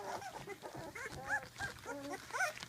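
Young puppies about two and a half weeks old give a run of small whimpers and yips. The sounds are close and moderately loud, and they come in several short bursts throughout.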